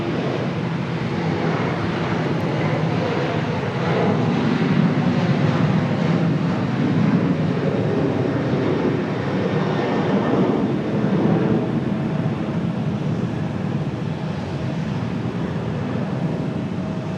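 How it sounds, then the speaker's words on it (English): A Boeing 737 airliner taxis at Charlotte's busy American Airlines hub, its engines giving a steady, broad roar that holds for the whole stretch with slight swells, moderately near and with no voices. "this 737 came across the taxiway"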